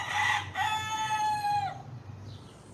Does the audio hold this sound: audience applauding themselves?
no